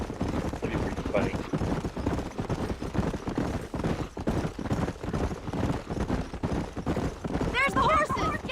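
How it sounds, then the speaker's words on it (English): Horses galloping in Red Dead Redemption on a ranch, a steady rumble of hoofbeats under ongoing conversation, with a short burst of a higher voice near the end. "There's the horses!"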